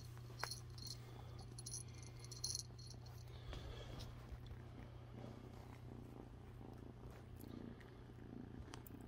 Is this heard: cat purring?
yes